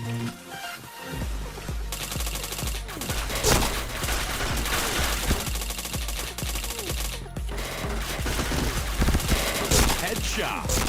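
Rapid bursts of gunfire in the shooter game PointBlank, dense fusillades of shots crackling continuously and loudly throughout, with almost no pauses.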